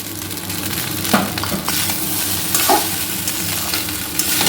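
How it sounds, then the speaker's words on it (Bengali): Leftover rice frying in a pan with egg added, a steady close sizzle with scraping stir strokes at irregular moments throughout, no voices. "আমার কিন্তু বেশ খানিকক্ষণ ভাজা হয়ে গেছে, এর মধ্যে আমি ডিমটা দিয়ে দেব। তো দিয়ে দিলাম ডিম।"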